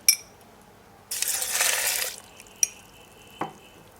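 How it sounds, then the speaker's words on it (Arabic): Milk pours into a glass for a diet Lotus milkshake in one short, bright splashing gush lasting about a second. Small clinks come before and after, with no talk. "هحط اللبن"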